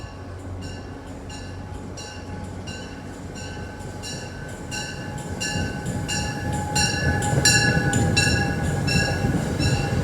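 An MBTA commuter train led by CTC-1B cab car #1637 rumbles past up close with steady rhythmic clicking of wheels over rail joints, growing slightly louder as it goes.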